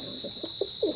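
Teddy pigeons give a few short, rising coos close up, each a little stronger than the last, over a thin steady high whine.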